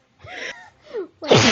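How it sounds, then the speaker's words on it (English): A man's big, forceful sneeze at a birthday party erupts loudly and close up, right after a few moments of quiet talking. "It was like a dad sneeze"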